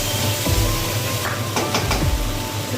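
Yogurt frying into tomato puree for a paneer butter masala curry, a steady close sizzle throughout with a few soft scraping stirs of the pan, no voices.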